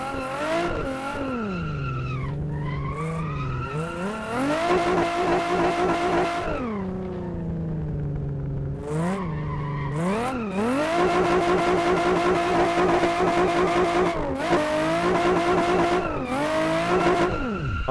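A Nissan 350Z driven in Assetto Corsa, its engine note climbing and dropping repeatedly as it revs through the gears, with brief tire squeal, loud and continuous with no talking.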